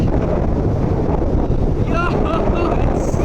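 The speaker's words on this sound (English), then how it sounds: "it's so windy right now." Strong wind gusts roar steadily and close beside a lake during a rainstorm, a loud, unbroken rush buffeting the microphone, with a voice briefly speaking over it.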